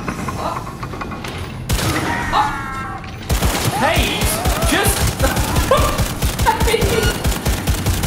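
Gunfire in the video game Cyberpunk 2077 comes as loud, rapid bursts of sharp shots over several seconds, mixed with game effects and voices talking.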